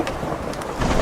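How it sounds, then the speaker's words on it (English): Brief thunderstorm sound effect: a dense wash of heavy rain and gusting wind with a low rumble rising toward the end, loud and continuous. "The rain lashed like a whip against his face, and the wind howled through the narrow alleys."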